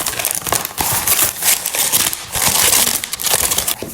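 A Choco Pie box is torn open, loud close crinkling and crushing of cardboard and plastic packaging in irregular bursts throughout.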